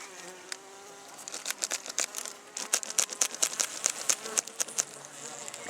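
Bees buzz close by at a top-bar hive, their drone rising and falling in short bursts with light crackles and taps, no voices.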